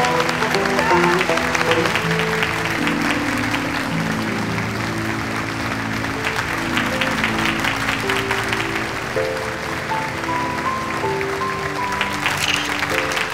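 Wedding guests applaud in a steady, sustained round of clapping under a bed of music and chatter, continuing without pause throughout.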